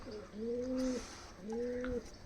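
Oman teddy pigeons give two soft, rounded coos a moment apart, fairly quiet against a faint background.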